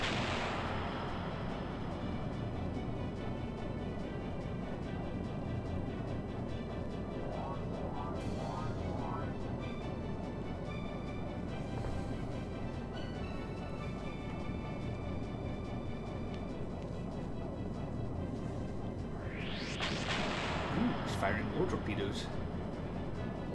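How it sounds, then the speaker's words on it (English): Torpedoes fire during an airship battle in Skies of Arcadia Legends, a steady rumbling barrage with scattered booms under continuous game music and effects, with a few sharper bursts near the end. "Torpedoes going on here. We'll fire our torpedoes."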